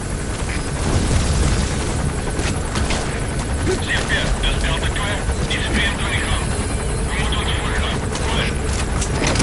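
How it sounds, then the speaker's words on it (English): A helicopter in the video game Metal Gear Solid V: The Phantom Pain flies overhead with a loud continuous rotor roar and chopping pulses throughout, under game dialogue. "Looks like the arms dealer's chopper is gonna patrol for the security forces."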